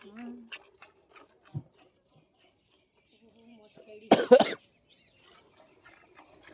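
A person suffering from a cold and cough gives one sharp, close cough partway through, set against quiet background sounds of a buffalo farmyard and a few faint soft noises.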